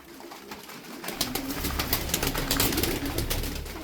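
Tumbler pigeons coo and flutter close by in a loft, soft throaty calls mixed with rustling and wing noise that grow busier after the first second, with no talking.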